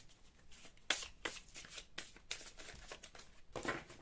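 Tarot cards being shuffled by hand for a weekly reading, a series of close, soft riffling bursts and card slaps in an uneven rhythm, heard alone without talking.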